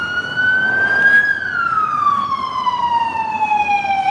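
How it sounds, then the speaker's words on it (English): An ambulance siren on a street in East Harlem, New York City, one loud continuous wail rising then slowly falling in pitch as the vehicle passes nearby, heard alone with no talk. "I think there's ambulance coming up."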